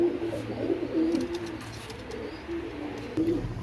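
Pakistani Teddy pigeons, a breeding pair and their young, coo close by in soft, low, repeated phrases with a steady murmur underneath and no talking.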